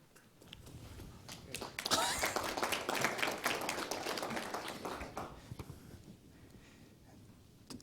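An audience at a lecture event applauds, the clapping building quickly to a full, moderately loud round and then slowly thinning out into scattered claps.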